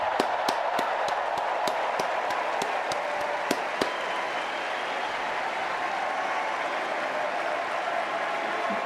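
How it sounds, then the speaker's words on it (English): Steady audience applause at a Democratic National Convention for the First Lady, dense and fairly loud throughout, with a few sharp claps or bangs standing out in the first few seconds before settling into an even roar. "Let's give a special round of applause to our First Lady, Jill Biden."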